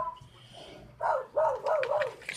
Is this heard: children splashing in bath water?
no